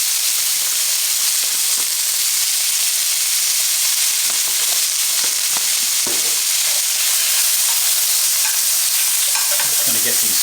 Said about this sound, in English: Get a little sear going.